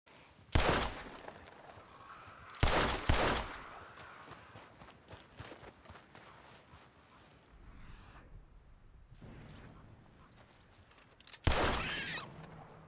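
Gunfire in the video game Red Dead Redemption 2 while hunting an opossum, three sharp loud shots spaced a few seconds apart over a low rumbling game background.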